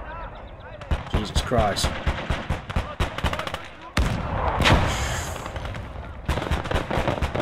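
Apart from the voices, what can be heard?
artillery and gunfire in Gates of Hell Ostfront video game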